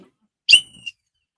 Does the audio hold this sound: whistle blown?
yes